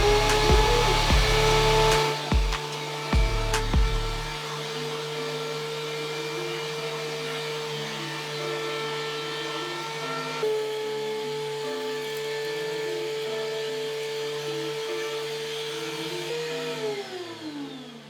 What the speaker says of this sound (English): So there we have it, the DeWalt 735 planer.